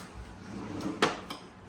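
Pull-out drawers of hardwood shaker style kitchen cabinets slide and bump shut, one faint knock followed by a sharper clack and a softer thud, close by in a quiet room.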